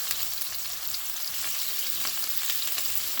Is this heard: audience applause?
no